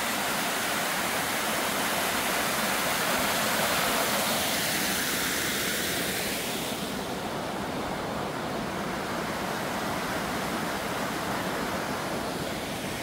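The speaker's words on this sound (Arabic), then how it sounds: "ذاك هو شلال ستوب اند فول" Waterfall at Stüber in Switzerland, a loud, steady roar of falling water that fills the scene continuously without a break and with no voices over it.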